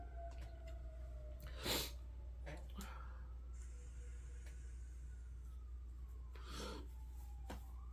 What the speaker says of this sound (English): let's wait for that siren to pass